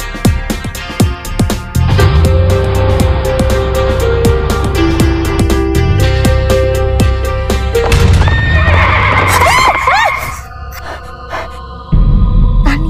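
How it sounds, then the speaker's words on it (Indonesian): A horse gallops past fast, loud rhythmic hooves clopping steadily before a shrill neigh rings out, in the soundtrack of an Indonesian horror film. "Tadi ada kuda lewat cepet banget"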